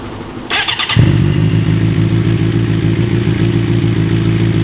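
A 2007 Suzuki GSX-R600 with performance parts fires up with a brief starter whir, then settles into a loud, steady idle with an even rumbling pulse, heard up close with no voices.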